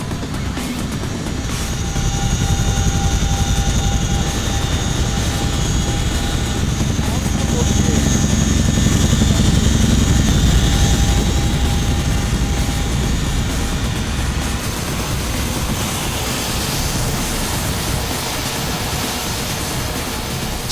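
An Air Force aircraft flying for about twenty minutes to Jikdo island, an air force firing range, gives a loud, steady cabin drone of engine and rotor-like roar with constant tonal hum throughout.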